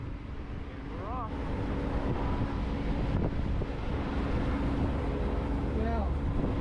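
A boat's engine speeds up to 3,500 RPM and holds a steady drone out on the water in summer sailing conditions, with wind buffeting the microphone and voices speaking over it.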